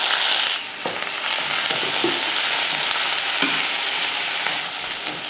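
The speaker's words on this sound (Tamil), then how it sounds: "எண்ணெய் காஞ்சதுமே நம்ம தட்டி வச்சுருந்தோம் அந்த வெங்காயத்தை சேர்த்துடலாம்" Loud, steady sizzling of crushed onions frying in hot oil for crab soup, heard up close with occasional stirring scrapes and no voices.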